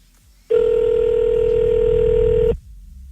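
A telephone call being placed from France to Canada: a single steady, loud tone sounds for about two seconds, then cuts off abruptly, with quiet background before and after.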